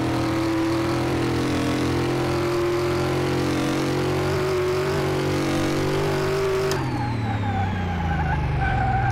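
A car in the Car Mechanic Simulator video game is driven at full throttle. Its loud, steady engine roar climbs through the revs, then drops in pitch at a gear shift before rising again, with no talk.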